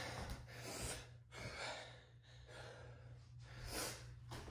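Heavy, labored breathing during recovery after a bodyweight workout: quiet, repeated gasping inhales and exhales in an uneven rhythm, with no talking.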